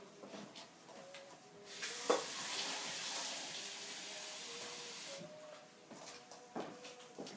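Warm water runs from a kitchen tap for a few seconds, a steady rushing hiss that starts and stops abruptly, with faint clinks and kitchen handling noises around it.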